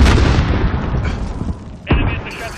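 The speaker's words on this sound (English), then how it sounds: "Throwing grenade!" A grenade detonates in Modern Warfare online gameplay on the Shoot House map: a heavy boom rolls out, followed moments later by a second sharp burst and a rattling mechanical tail.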